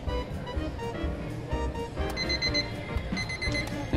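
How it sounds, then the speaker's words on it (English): An electronic alarm clock beeps in repeated high chirping patterns, fairly close, over a background murmur. "This does have an alarm, so..."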